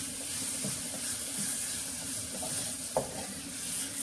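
A ladle stirs spices and tomatoes in a hot pan for paneer curry, a steady soft sizzle under faint scraping and one brief clink, low and continuous with no voices.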